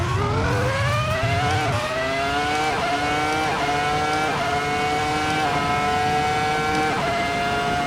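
A video-game V10 Formula 1 race car screams through repeated upshifts, its high-pitched engine note climbing and dropping in a steady stepped rhythm, loud and close with no voices.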